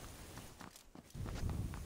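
Footsteps in PUBG on Xbox: soft, muffled steps patter through a low rumble of game ambience, fairly close and brief, with no talking.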